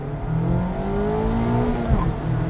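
A 2020 Mazda MX-5 RF engine revs hard and steadily, its pitch climbing and holding, then dipping briefly before rising again, loud and close.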